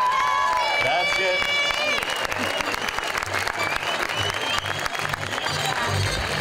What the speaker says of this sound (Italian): Un applauso anche per loro, dai!